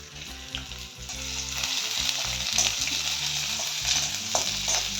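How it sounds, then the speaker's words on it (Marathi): Onion frying in a spoonful of oil in a pan, a steady close sizzle throughout with occasional stirring scrapes. "एक चमचा तेल घालून आपल्याला कांदा चांगला भाजून घेऊ।"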